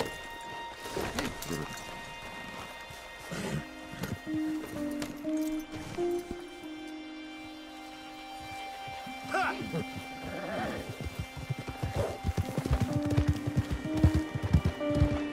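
Horses in the Red Dead Redemption 2 game snort and clop their hooves amid outdoor ambience, with someone talking over them and a steady hum running underneath.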